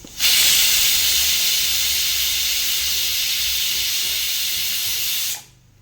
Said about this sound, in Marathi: आता झाकण बंद करून याच्या दोन शिट्ट्या काढून घेऊ